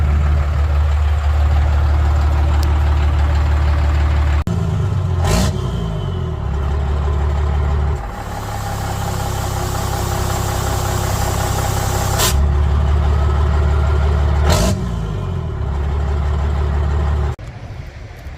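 A 12-valve Cummins diesel truck engine with a loud turbo, muffler removed and exhaust piped out before the axle, idles with a deep, loud rumble close by and revs up sharply twice.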